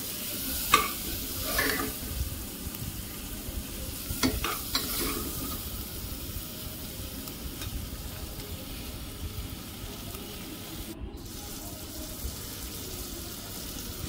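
Khandeshi masala khichdi ingredients being stirred in a pan, a soft continuous scraping and faint sizzle with a few sharper clinks of the spoon near the start and a brief hiss later, no talk.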